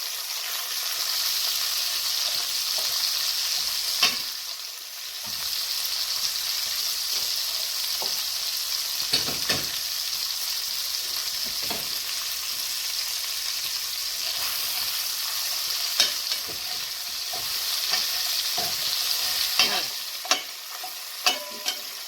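Beef pieces frying and sizzling in hot oil in a pot for a red wine beef stew, a steady close hiss with occasional louder pops and stirring scrapes throughout, no talking.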